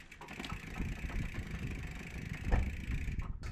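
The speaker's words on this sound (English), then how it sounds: "You can hear when I go under the large cog, there is a lot of noise." A bicycle derailleur set too close to the cassette clatters and grinds while the chain runs under the large cog, a steady close mechanical rattle with a few sharper knocks and no talk.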